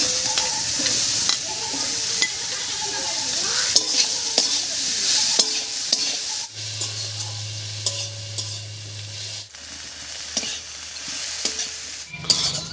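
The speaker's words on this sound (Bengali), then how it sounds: "লাউয়ের খোসাটা দিয়ে একটু নাড়িয়ে নিয়েছি।" Bottle gourd peel being stirred and fried in a pan with garlic and chili, sizzling under repeated scraping and clinking of a spatula against the pan, with a low steady hum partway through.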